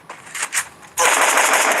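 Gunfire in the Free Fire battle game: a few spaced shots, then a loud, dense burst of rapid automatic fire that runs on to the end.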